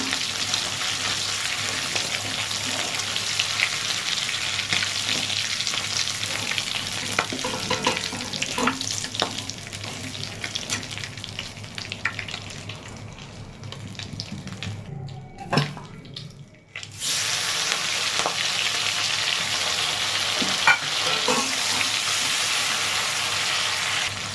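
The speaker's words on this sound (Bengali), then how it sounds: "আমি এই মাছ ভাজা তেলেই পটলটা ভেজে নেব" Pointed gourd frying in the oil already used for fish, a steady loud sizzle running throughout that briefly drops out midway, then resumes, with occasional stirring clinks and no talk.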